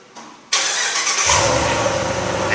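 A 2016 Ram 1500 engine cranks and fires at about half a second, then settles into a steady, loud, deep idle rumble that persists to the end, with no talking.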